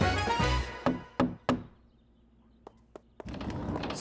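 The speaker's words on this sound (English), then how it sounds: "Sorry I had to knock with my boot." A boot knocks on a door: three heavy, evenly spaced thuds after a noisy start, then two lighter taps in a quiet room before background noise returns.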